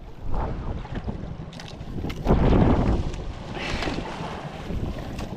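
A boat out in rough water on the West Philippine Sea, with wind buffeting the microphone and waves slapping the hull. The rumble is loud and steady, with a strong surge in the middle and no voices.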